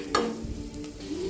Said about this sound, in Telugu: ఇప్పుడు కొంచెం సాల్ట్ వేసుకొని మళ్ళీ ఒకసారి ఫ్రై చేసుకోవాలండి